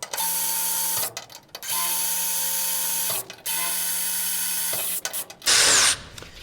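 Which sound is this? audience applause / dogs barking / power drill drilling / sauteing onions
power drill drilling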